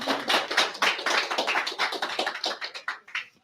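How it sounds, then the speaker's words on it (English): A seated audience at a May 2024 IPG meeting about reverse mortgages applauds a guest being welcomed on stage, a dense, steady patter of many hands clapping close by for a few seconds. "give him a round of applause"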